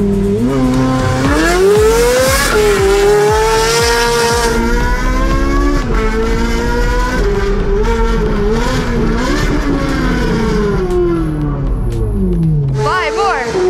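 A Ferrari and an Audi RS4 accelerate hard in a street drag race, engines revving up through rising, falling gear-change sweeps, loud and close, with tire squeal and people talking over the noise.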